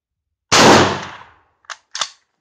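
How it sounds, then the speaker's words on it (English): A single loud, close rifle shot from an M1916 Spanish Mauser chambered in 7.62x51 NATO, a sharp blast decaying over about a second, followed by two brief faint clicks or clatters. "First shot out of the 1916 Spanish Mauser from J&G Sales."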